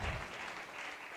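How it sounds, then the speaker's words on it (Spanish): Church congregation applauding together at a morning service, a dense, even wash of clapping from many hands, faint and distant, lasting about a second. "¿Cuántos le pueden dar un aplauso al Señor en esta mañana?"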